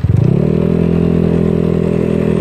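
A ZNEN ZN150T-9 150cc scooter engine revs up at the start, then settles into a steady, loud, close drone as the scooter rides off.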